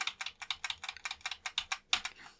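Someone repeatedly presses the tab key on a computer keyboard, producing a quick run of about fifteen crisp, close clicks in a steady rhythm, with no talking.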